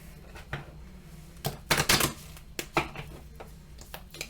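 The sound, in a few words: shuffling tarot cards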